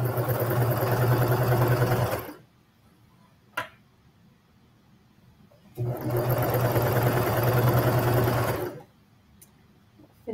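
A sewing machine hems the inseam of boys' sweat shorts in two steady bursts of fast, buzzing stitching, close and loud, separated by a quiet pause with a small clack in the middle.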